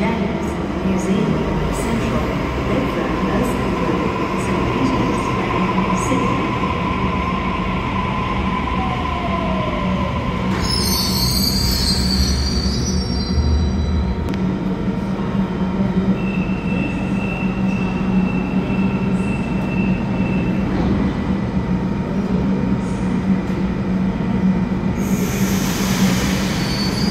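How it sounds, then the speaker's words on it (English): A Sydney train pulls into platform 6 at Wynyard station on a Sydenham service, with a steady rumbling roar throughout and a high metallic wheel squeal rising midway. A brief chime or announcement tone sounds near the end. "Train on approach to platform 6 is a Sydenham service."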